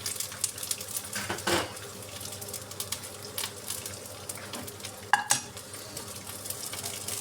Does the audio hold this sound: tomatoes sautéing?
yes